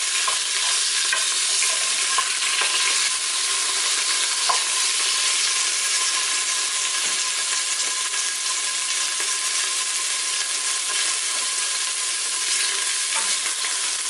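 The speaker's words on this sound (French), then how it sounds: "Donc le mieux c'est de dorer les 4 faces, comme ça, sans pour autant cuire totalement la viande." Beef pieces for bourguignon sear and brown in olive oil in a pan, giving a loud, steady, continuous sizzle with occasional faint stirring clicks, no voices.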